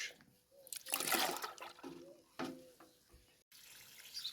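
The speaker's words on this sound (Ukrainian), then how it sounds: "Набираю повне відро" Water pours into a bucket being filled to the brim for feeding grapevines, heard as close, uneven splashing bursts that swell and fade with short pauses between them.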